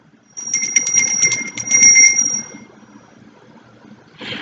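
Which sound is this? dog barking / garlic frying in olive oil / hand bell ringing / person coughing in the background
hand bell ringing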